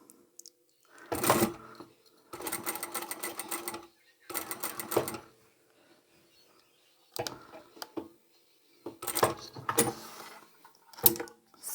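A sewing machine stitches across the bottom of a jacket in several short bursts of fast, whirring clatter, separated by quiet pauses, heard close up.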